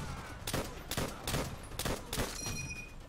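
M1 Garand rifle fire in the Call of Duty: World at War campaign: about five crisp, evenly spaced shots ring out over a dense battlefield backdrop.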